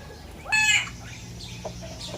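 Golden pheasants in an enclosure give a loud, brief harsh call followed by softer scattered chirps and clucks, set against a steady low background hum.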